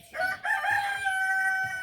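A rooster crows once, close and clear, in a foggy village farmyard on a cold morning, with a faint low background rumble.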